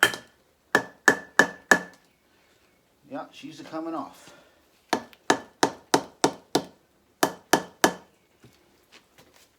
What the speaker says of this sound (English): I got a plastic hammer here to kind of give it a little persuasion